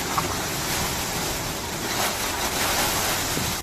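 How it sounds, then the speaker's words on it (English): Hurricane Dorian in Freeport, Bahamas, heard from a home's roof: a steady, loud roar of wind and rushing waves with constant buffeting, no voices. "Take notice of the wind and rush of the waves."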